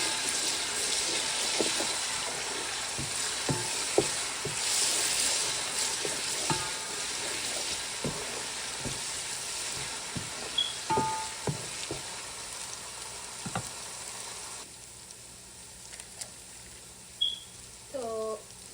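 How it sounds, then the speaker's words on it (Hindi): Steady sizzling of garlic, ginger and onions frying in a pan, with occasional stirring clinks and scrapes; a faint voice briefly near the end. "तो लहसुन अदरक डाल के हम उसको थोड़ा सा पकाएंगे"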